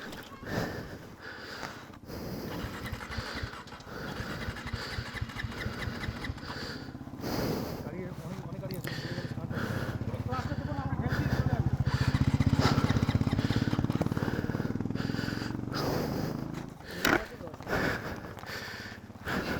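A motorcycle engine idles steadily on a Darjeeling mountain road to Tinchuley after an accident, a low throbbing drone that swells midway, with voices talking over it throughout.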